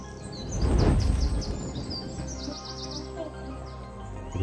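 Birds chirping in the video game I Am Fish, a string of quick bright tweets repeating over a low rumbling swell, close and fairly clear with no talk.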